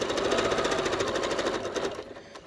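A sewing machine stitching piping runs in a fast, steady mechanical whir up close, then slows and stops near the end.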